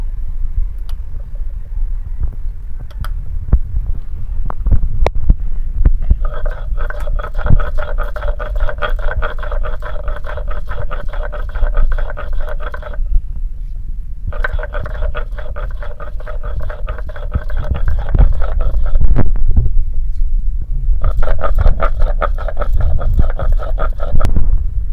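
Mustard seeds being ground by hand on a stone while cooking water lily stems with fish oil; a steady rough scraping and rubbing that pauses briefly twice, loud and close, with no talk.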